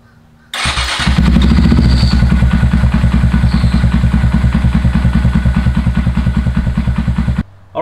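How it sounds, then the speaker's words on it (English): Small motorcycle engine fitted with an aRacer RCMini5 unit, on a Grom or Monkey, cranks, fires and settles into a loud, close, lumpy idle with a steady rapid pulsing thump, stopping abruptly near the end. "fire it up and see what happens."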